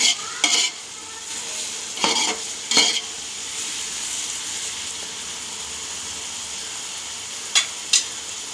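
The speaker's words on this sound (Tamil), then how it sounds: "வெங்காயம் பார்த்திங்கன்னா நல்லா பொன்னிறமாக வர ஸ்டேஜில் வர வரைக்கும் நல்லா இதை வதக்குங்க" Onions sautéing in a pan until golden for chicken dum biryani give a constant close sizzle. Loud spatula scrapes and stirring clatters come in bursts near the start and again near the end.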